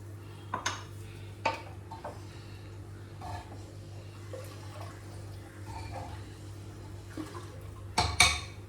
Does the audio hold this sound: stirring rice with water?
yes